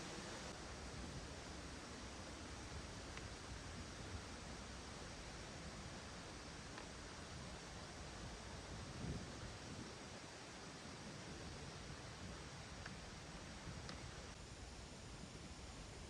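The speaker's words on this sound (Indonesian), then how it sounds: "Air terjun Bumbun yang tinggi puluhan meter dengan bertingkat-tingkat dan debit air yang besar" The tall, multi-tiered Bumbun waterfall in Tumbang Olong II village, Murung Raya, Borneo, pours a large volume of water in a steady, dense roar that stays even from start to finish, with no voices.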